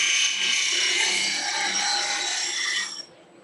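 A woodturning bowl gouge, ground to a 40/40 grind, is pressed against a spinning grinding wheel in a steady, hissing scrape that runs for about three seconds before cutting off, leaving a faint wheel whine.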